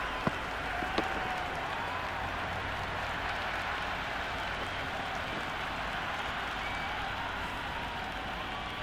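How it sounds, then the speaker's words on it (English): Steady, raucous crowd noise fills a cricket stadium in the Cricket 26 video game during a Pakistan vs India T20 World Cup final, with a couple of sharp claps near the start and no talk. "The crowd are really getting quite raucous"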